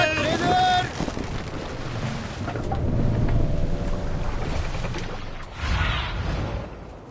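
A Viking ship sails in Assassin's Creed Valhalla: steady wind and rushing water wash around the hull, with creaking timbers and a brief swell of louder surf near the end.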